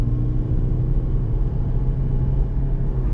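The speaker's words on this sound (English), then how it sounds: "it sounds like a vacuum cleaner when you pull away" A 2017 Toyota Prius hybrid with an eCVT gearbox pulls away with a steady, low, rumbling drone heard from inside the car, with no change in pitch.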